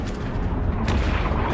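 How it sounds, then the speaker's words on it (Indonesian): Mortar fire pounds an airport area in a war film, a continuous heavy rumble of booms and blasts dominating the low end, dense and loud with no pause throughout. "pasukan Smook menembakkan mortar ke seluruh area bandara"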